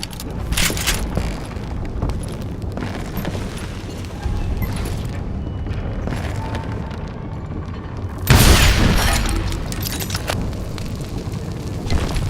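Gunpowder and dynamite blasts in the Western shooter Call of Juarez: Gunslinger: a steady rumble of explosions and gunfire, with one heavy close boom near the end, under a busy game soundtrack.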